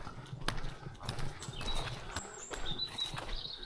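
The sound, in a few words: wild horses walking, hooves clip-clopping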